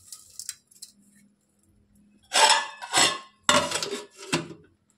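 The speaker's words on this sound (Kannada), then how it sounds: "ಮುಚ್ಚಿದೀನಿ, ಬೇಯ್ಕಂಬ್ಲಿ ಒಂದ್ ಸ್ವಲ್ಪ ಹೊತ್ತು." A metal lid is set onto a cooking pot of village-style masskayi curry, giving a few sharp clanks and rattling clinks in quick succession, close and fairly loud, after a quiet start.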